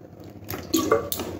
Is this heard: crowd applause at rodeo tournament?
no